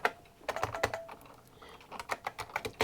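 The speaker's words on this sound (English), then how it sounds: "You just type right in there." Quick bursts of keystrokes on a computer keyboard, close and fairly quiet, in two clusters with a brief pause between them and no talking.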